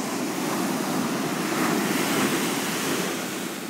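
Ocean waves roll onto a Los Angeles beach with a continuous hissing surf wash that swells and recedes, mixed with wind buffeting the microphone and no voices.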